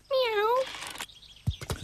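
A cat's clear, rising-then-falling meow sounds close and loud, followed by a brief voice and soft thumps.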